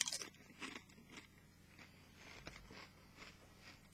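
Spicy Doritos chips being bitten and chewed close up, a run of soft crunches and crackles repeating in a loose rhythm, quiet and with no talking.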